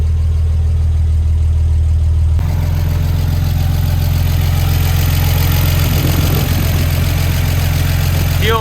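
A 1946 Chevy truck engine, fed through a double-pumper carburetor with a leaking fuel pump, catches and settles into a loud, steady, close idle with a deep rumbling low throb.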